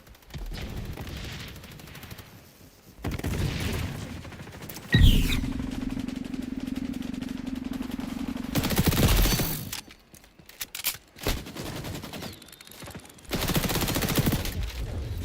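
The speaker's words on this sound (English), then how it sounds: "I shot that so much" Game gunfire from an MP5A2 in XDefiant comes in rapid submachine-gun bursts, loud and busy, broken by short pauses and mixed with other in-game effects.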